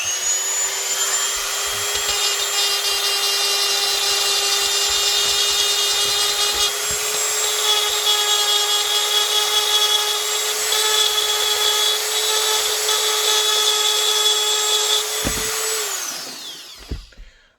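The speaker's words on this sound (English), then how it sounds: "So we're just gonna scuff it up a little bit." A power sander scuffs a sanded plastic blue gun replica surface, a loud continuous high-pitched motor whine with gritty abrasive hiss, running steadily close-up before spinning down at the end; no talking.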